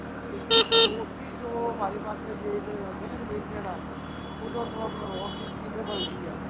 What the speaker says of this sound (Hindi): इतना बड़ा ये रोड है मगर फिर भी बहुत ज्यादा ट्रैफिक है